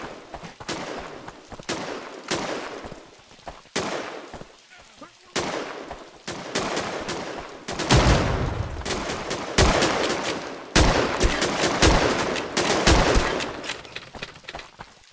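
Rifle fire in the shooter game Riflemen, with rapid close shots and bursts cracking in irregular volleys throughout, heavier and more continuous in the second half, while a player talks over it at times.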